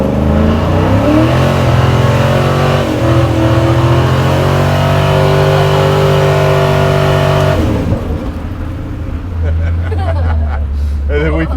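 A custom slammed Chevy C10 truck revs hard through a burnout, its engine roaring loud and steady for several seconds before dropping off, with people talking over it.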